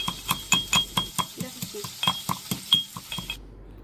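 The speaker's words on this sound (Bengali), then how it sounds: "এবার একটু গোটা গরম মশলা থেতো করে নিলাম" Whole garam masala spices crushed in a Bengali kitchen, giving a quick series of sharp, rhythmic pounding clinks, about a dozen close hits in steady succession before stopping abruptly.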